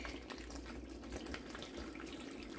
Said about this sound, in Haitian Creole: Je vais mettre 2 bouteilles de l'eau pour bien blender.